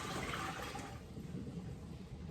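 Vinegar, apple cider and white, is poured into a pot for pickling eggs, a soft continuous splashing gush of liquid that sounds faint and fairly close.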